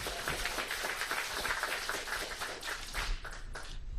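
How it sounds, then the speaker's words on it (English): A crowd applauds, dense clapping holding steady for a few seconds before thinning out near the end. "Let's give Alan a round of applause."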